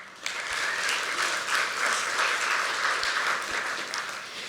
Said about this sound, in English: So please give yourself a round of applause as well